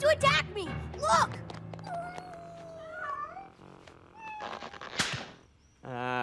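Cartoon cat meowing in a short animated scene, several loud bright meows and yowls mixed with other cartoon effects and a sharp bang, with speech around them.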